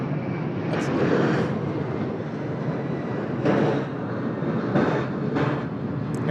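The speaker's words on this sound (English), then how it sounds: "Now this Qantas A330 is 6001 going to Melbourne." A Qantas Airbus A330 airliner at Sydney Airport, its jet engines making a steady broadband roar that stays loud and near throughout, with brief swells in the noise.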